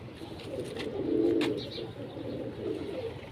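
A domestic pigeon coos in a few low, soft rolling calls, close by and fairly quiet, with no voices present.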